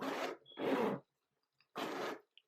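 The zipper on a Polène Numéro Dix bag is pulled in three quick, close rasping strokes, the third after a brief pause, with faint ticks in between.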